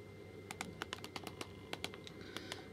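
Quick typing on the tiny built-in keyboard of a Pocket C.H.I.P handheld: a close, steady run of sharp plastic key clicks, about twenty taps in short bursts with brief pauses.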